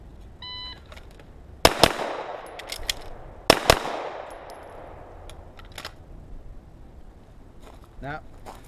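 A pistol fires during a timed draw and reload drill: two pairs of sharp, loud shots spaced a couple of seconds apart, each quick double report ringing out, with a timer beep at the start and faint background noise after.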